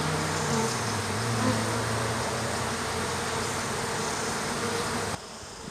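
Honey bees swarm around an opened hive with a dense, continuous buzz and a low droning hum throughout, loud and close, dropping in level just before the end, with no voices.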